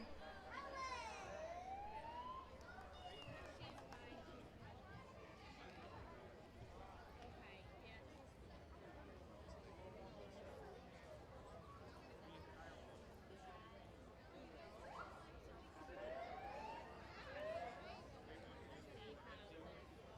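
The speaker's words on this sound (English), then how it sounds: "I hear the fire trucks too." Distant fire truck sirens wail faintly, rising and falling in short bursts over a busy outdoor crowd murmur at a Fourth of July parade, with talking nearby.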